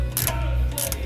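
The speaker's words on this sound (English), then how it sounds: "We are taking the brake line bracket off right now just to avoid any future problems." A ratchet clicks in short bursts while loosening a brake line bracket on a 2015 Jeep Willys, two quick clusters of pawl clicks over a low steady hum, close up, no talk.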